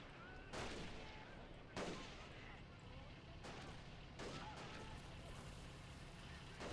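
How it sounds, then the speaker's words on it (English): Rifle fire and explosions in the Men of War video game during a massive Soviet wave assault on a Japanese pagoda temple, several loud booming shots over a dense constant battle rumble. "All the rifle fire is starting to like die down."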